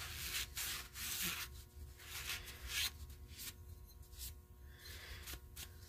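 A rag wiping gummy varnish from an old lawnmower engine part: close, repeated rubbing and scrubbing strokes in uneven bursts, quiet, with no talk.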